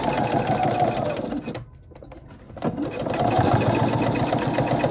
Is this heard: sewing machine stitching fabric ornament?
yes